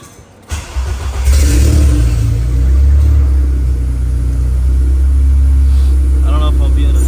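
Honda K20A or K24A four-cylinder engine in a K-swapped car revving hard on a dyno, a loud sustained roar that swells after a quiet start and holds steady, with voices talking over it.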